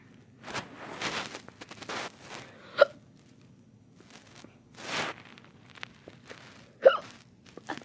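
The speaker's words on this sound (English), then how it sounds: "the hiccups." Hiccups: two sharp, sudden vocal hics a few seconds apart, close and fairly loud, among soft rustling and breathy movement sounds.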